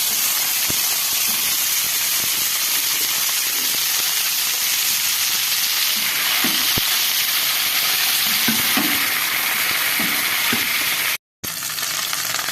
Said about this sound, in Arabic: انا حمرت الكفته اهي كلها بالشكل ده كده